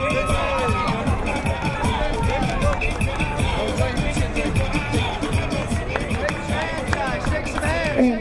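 Crowd at a men's college soccer championship final between Queensborough and Hostos applauding and cheering both teams, a dense, steady wash of clapping and babble with scattered shouts that holds at a fairly loud level throughout.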